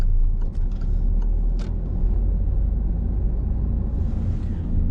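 A car pulling away during a driving lesson, a steady, close engine rumble with low drone from inside the cabin, a few faint clicks early on and a soft hiss rising near the end.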